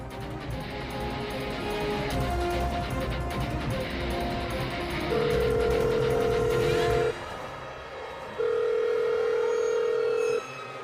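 A phone call goes unanswered in a Marathi TV drama scene: the steady ringback tone sounds in two long bursts of about two seconds each, separated by a pause, over a soft background score.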